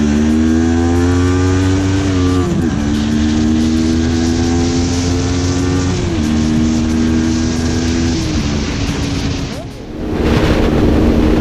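A CF Moto 400NK motorcycle accelerates through several gears, engine note climbing in pitch with brief dips at each shift, loud and close, with wind rush rising toward the end.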